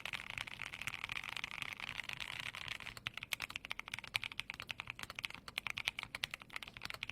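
Rapid typing on a Keychron Q6 Max mechanical keyboard, steady and close, with dense clacky keystrokes that turn sharper and more distinct partway through.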